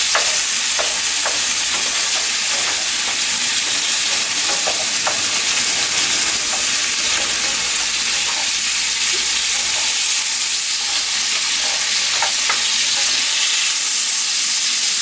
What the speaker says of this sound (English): We'll just let that sizzle for a bit